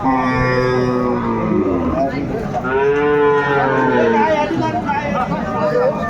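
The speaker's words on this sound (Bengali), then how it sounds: "গাভী বাছুর দেখছেন বেলাল ভাই" Cows and calves at the Aftabganj cattle market in Bangladesh give several loud, drawn-out moos close by, over a busy crowd with people talking.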